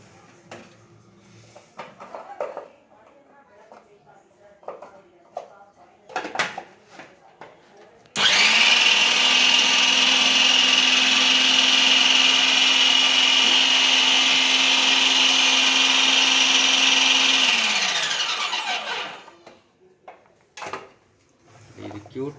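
A Prestige Endura mixer grinder runs its vegetable cutter attachment, dicing vegetables into cubes with a loud, steady whirring motor for about ten seconds. The whir starts abruptly and then winds down, with clattering handling sounds before and after.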